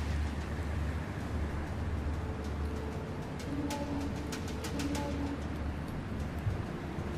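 Owl hoots in Far Cry Primal, a few soft tonal calls around the middle amid steady outdoor ambience with distant bird chirps, no talking.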